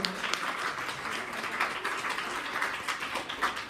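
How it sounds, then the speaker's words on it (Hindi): An audience claps steadily for a woman at a school's 26 January celebration, a continuous crackling patter of many hands at moderate distance with no talk over it. "एक बार मैडम को फिर ताली बजाएं।"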